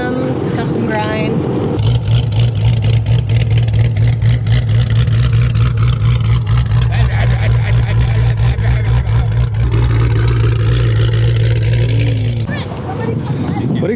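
A Mopar V8 with a custom-grind cam and Borla exhaust idles loud and lumpy close by, a steady pulsing rumble that holds for most of the stretch, with people talking over it.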